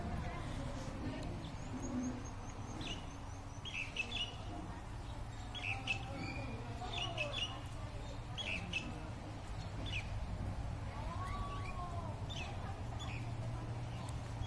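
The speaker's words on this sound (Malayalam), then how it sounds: "ഒരു കുഞ്ഞു കിളി വന്നിട്ടുണ്ടല്ലോ" A small bird at the Lava Glass Cafe in Taupo gives faint, intermittent chirps and squawks over a low hum of cafe background noise.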